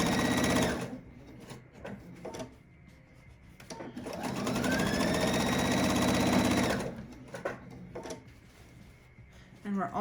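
A sewing machine stitches binding onto a quilt with a steady mechanical whir that rises and falls over several seconds, with a voice speaking intermittently.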